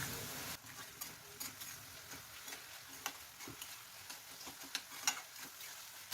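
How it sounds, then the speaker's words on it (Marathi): Red chilli powder and homemade black masala sizzle in a pan while being stirred, a quiet steady frying hiss punctuated by soft scraping and ticking strokes of a spoon, with no talking. "हे मसाले आपल्याला छान परतून घ्यायचे"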